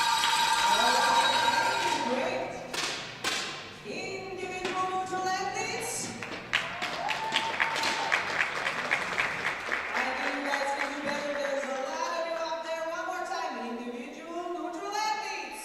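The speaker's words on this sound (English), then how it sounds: "It's almost as if the crowd are cheering for that." Crowd applause at a women's junior air rifle European Championship final in Osijek, Croatia, a steady clatter of many hands that swells and holds throughout, with a commentator talking over it.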